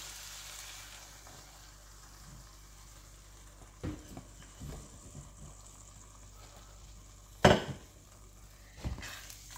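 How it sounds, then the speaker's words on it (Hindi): Beaten eggs go into a pan of onion-tomato masala, making a soft sizzle under a few scattered clinks and scrapes of utensils. One louder clatter stands out near the end. "जो अंडे मैंने बीट करके रखे थे अब मैं इसमें वो डाल दूंगी।"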